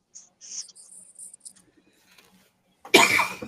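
A single sharp cough bursts out near the end, loud and close, after some faint high chirps and small clicks in an otherwise quiet room.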